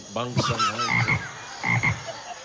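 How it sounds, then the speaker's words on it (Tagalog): Repeated frog croaks, loud and close, in two rhythmic bursts with short gaps, heard alone on the set of a Philippine noontime variety show. "Palaka naman ngayon."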